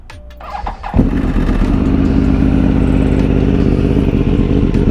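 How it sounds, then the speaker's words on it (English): A Yamaha R1 sport motorcycle cranks over and fires up, then settles into a loud, steady, close idle with a rough mechanical clatter throughout. "I'm gonna go ahead and give you guys a quick startup"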